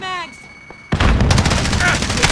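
Gunfire in the Call of Duty video game: a loud sudden shot with a rapid burst of firing follows a quieter game stretch of a faint tone and sound effects.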